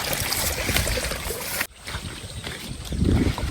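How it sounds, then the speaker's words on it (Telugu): Continuous rushing of irrigation water flowing through farm fields close by, with wind buffeting the microphone; a sudden dip midway, then the water noise builds again. "నీళ్ళు వారుతున్నాయి స్వామి రంగ"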